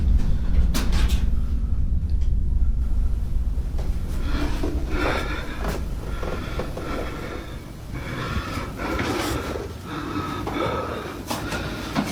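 An old house door creaks as it opens or closes, a drawn-out groan amid other knocks and shuffling noises, with no talking.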